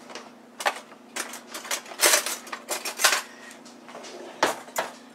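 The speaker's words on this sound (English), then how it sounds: "I'm going to put this on a little plate over here so I can cut it" A knife and fork cut a jalapeno popper on a small plate, giving a run of sharp, irregular clinks and scrapes against the dish, close and clear with no talking.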